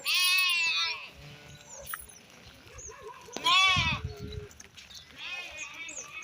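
Several sheep bleat loudly and nearby, long quavering calls separated by pauses, with someone talking softly in between.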